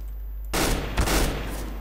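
Automatic gunfire in Counter-Strike: Global Offensive erupts suddenly after a quiet moment and continues as a dense, loud, close burst of shots, with a heavier crack about halfway through, and no talking.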